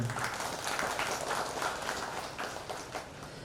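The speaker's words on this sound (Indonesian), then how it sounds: "Tepuk tangan untuk beliau" A crowd applauds a religious speaker at a declaration rally, a steady wash of many hands clapping at moderate loudness throughout, without clear speech over it.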